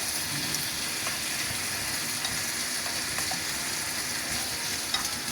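Pork chop frying with tomatoes and vegetables in a pan, a constant loud sizzle with scraping and stirring throughout, no voices.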